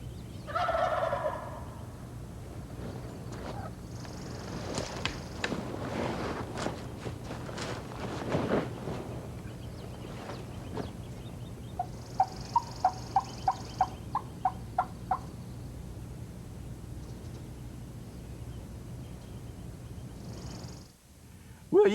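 Repeated gobbling of a wild turkey during a western turkey hunt, a quick run of about eight sharp gobbles in the middle, with fainter calls earlier over outdoor background noise and rustling.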